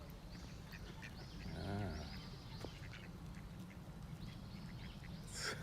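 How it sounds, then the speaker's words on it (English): Ducks at a spring in Tokyo give faint, scattered quacks in short bursts over a steady outdoor background, with one brief exclamation from a person nearby. "wow, we got ducks."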